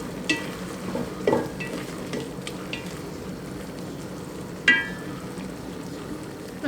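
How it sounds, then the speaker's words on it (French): Beef broth with a handful of porcini mushrooms bubbling at a steady boil in a pot, a continuous soft churning with a few brief clinks and stirring knocks scattered through it. "Donc je laisse bien bouillir."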